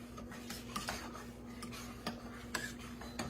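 A whisk scrapes and clinks against a pot of chocolate pie filling cooking on low heat, making a steady series of light metallic taps and scrapes with no talk.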